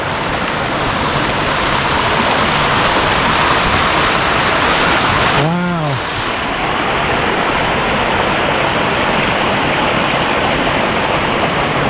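A steady, loud, full rush of a cascading waterfall on a hiking trail loop in the Quehanna Wild area, continuous and close, with a brief tonal swoop passing through midway.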